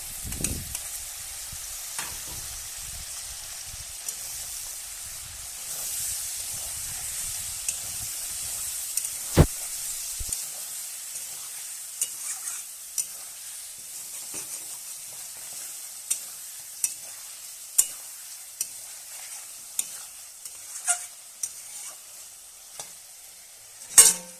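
Onion paste and turmeric sizzle steadily in hot oil for a chicken and jackfruit curry, with a sharp spoon scrape at the start and occasional crisp clicks and pops over the constant hiss.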